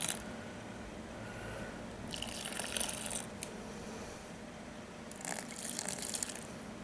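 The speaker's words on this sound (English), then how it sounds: "And there's just not quite enough water. So I'm going to add one more cup." Water poured into a batch of homemade liquid laundry detergent made from two soaps, giving faint splashing bursts over quiet background, with two clearer pours near the start and again toward the end.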